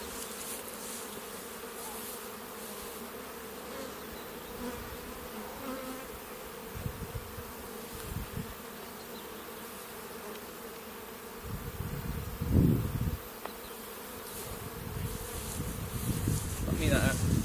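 Honeybees buzzing around a beehive, a steady close droning hum throughout with a few louder handling thumps and rustles midway.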